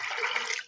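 Water pouring into a pot of soaked chickpeas for boiling, a short steady splashing rush that tapers off quickly.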